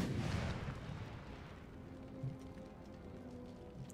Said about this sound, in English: That foot artillery could hit.